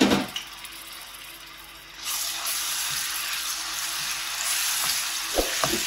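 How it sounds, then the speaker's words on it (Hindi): Ginger garlic paste hits about half a cup of hot oil in a pan, setting off a loud, steady hiss and sizzle that jumps up and then holds, with a few stirring knocks near the end and no talking. "यहाँ पे मैं आधा कप ऑयल डाल दूंगी इसमें। और यहाँ पे अदरक लहसुन का पेस्ट डाल देंगे।"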